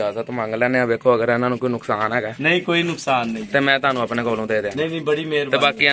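Pigeons at a breeding loft coo softly and repeatedly in the background while someone talks continuously over them.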